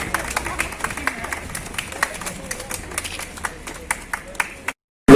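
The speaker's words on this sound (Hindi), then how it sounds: "अस्पताल कर्मियों ने तालियां बजाकर उसका हौसला" Hospital staff clap for a discharged student leaving for home, the crisp, uneven claps of a small group sounding close and distinct before stopping abruptly, followed by a short loud burst.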